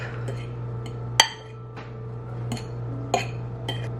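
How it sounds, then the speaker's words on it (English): Cooked rice is stirred with seasoned rice vinegar, giving a few sharp metallic clinks of a utensil against a bowl over a low steady background hum. "you can add a little bit of seasoned rice vinegar. So I'm just going to add a tiny bit, and then you can just mix that up."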